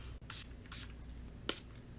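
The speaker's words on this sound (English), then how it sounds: "the NYX matte spray like locks it in or something" NYX matte setting spray misted onto the face in three quick hissing bursts, close and soft, with short pauses between pumps.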